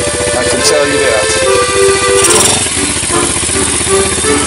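A motorcycle engine runs close by with a steady pulsing rumble throughout, loud and unbroken.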